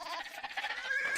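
A sheep bleats in the real-time strategy game Age of Empires, a short wavering cry heard close and clear over quiet game ambience.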